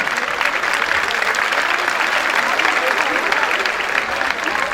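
Loud, steady applause from a concert audience greeting the choir as the orchestra settles in, a dense continuous wash of clapping that holds evenly throughout.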